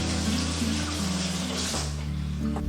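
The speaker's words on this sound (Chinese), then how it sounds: "然后我们把表面这个给它清洗干净" A small Beibei pumpkin is rinsed under a running kitchen tap, giving a steady close splashing rush of water for a few seconds.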